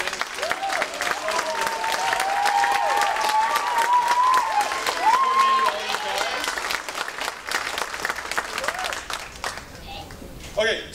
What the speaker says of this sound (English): can we give a big round of applause to Shelley and Stephanie